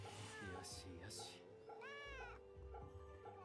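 Cat meows ring out from the Fate/Samurai Remnant video game, several drawn-out mewing calls over game music and effects, with a person talking now and then.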